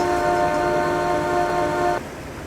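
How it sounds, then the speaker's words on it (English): A single sustained horn blast from a cruising boat on the Norfolk Broads: a loud, steady, harmonic tone holds for about two seconds and then cuts off abruptly, leaving faint engine and water rumble. "1 short blast the horn again."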